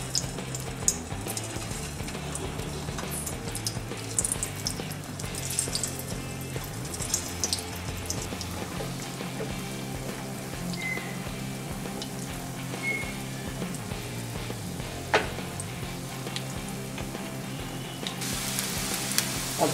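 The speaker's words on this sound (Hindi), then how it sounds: "ये आलू मैं इसमें अभी फ्राई होने के लिए डालती हूँ।" Potatoes frying in hot oil in a kadhai for Punjabi dum aloo, giving a steady, dense crackling sizzle throughout with faint clinks and a low background hum, no talking.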